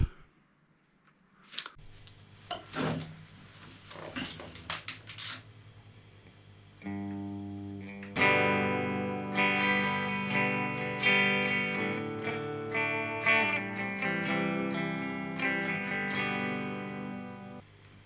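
Electric guitar through an EHX Oceans 11 reverb pedal, notes and chords ringing out with a long, washy reverb tail, sparse plucks at first, then fuller strummed passages that linger and decay.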